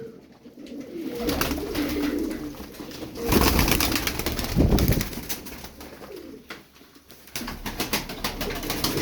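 Tumbler pigeons coo close by in their loft, soft low throaty calls that swell and fade in bursts over a faint rustle.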